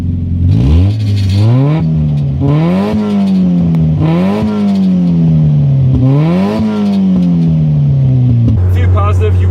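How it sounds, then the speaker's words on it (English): A 1997 Mazda Miata MX-5 NA with a 1.8L engine and straight pipe, loud and close, with a droning exhaust and whine that rise and fall through repeated gear changes while driving. "the car makes a lot of whining noise"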